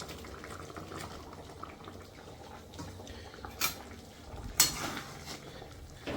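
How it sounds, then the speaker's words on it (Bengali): Chicken pieces going into simmering chilli gravy in a pot, a low steady bubbling with a couple of brief splashy clatters as pieces drop in; no one talks. "আমাদের ঝোল ফুটে গেছে, তো এবার আমি আস্তে আস্তে করে এর মধ্যে চিকেনগুলো দিয়ে দেবো"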